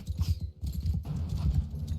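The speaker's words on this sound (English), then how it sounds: "My poor horse." Horse hooves in Mount & Blade Bannerlord, a brief burst of quick, close, thudding clip-clops.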